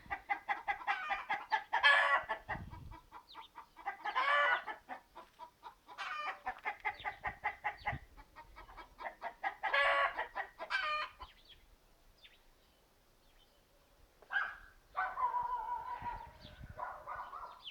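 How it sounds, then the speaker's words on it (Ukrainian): A chicken clucks and cackles repeatedly in loud bursts with short pauses, close by, followed by softer squawks. "Сусідська курка, мабуть, знайшлася,"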